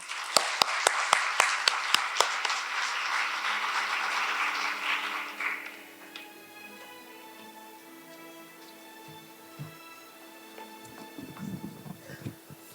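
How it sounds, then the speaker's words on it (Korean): A crowd at a faculty seminar lecture applauds to welcome a guest author. The clapping is dense at first, then thins into a few scattered claps and fades out. Quiet room noise and small shuffles follow. "신일용 작가님을 큰 박수로 맞이해 주시기 바랍니다"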